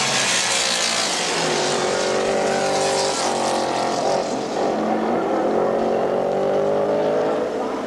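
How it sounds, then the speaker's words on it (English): Race cars roar around Lime Rock Park in a 1982 IMSA Kelly American Challenge race, loud continuous engine drones rising and falling in pitch as cars pass, with a commentator's voice faintly beneath. "So Gene Felton once again takes over the lead."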